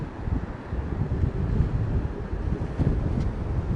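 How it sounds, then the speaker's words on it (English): A strong gust of Storm Darragh wind at Heathrow Airport, buffeting roar and rumble battering the microphone, loud and close, continuous for a few seconds with no voices. "You see that gust of wind just hit him?"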